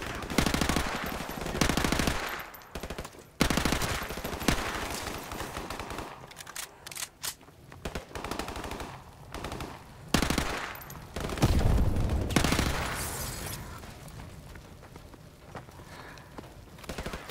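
Call of Duty Remastered machine gun fire on the Hunted mission, long bursts of automatic shots broken by short pauses, loud and close, along with scattered footsteps and other battle noise.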